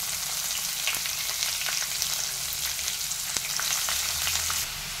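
Onions fry in hot oil with garam masala for a pesara punukula curry, a loud, even sizzle that hisses continuously up close, dotted with a few faint pops and spoon clicks.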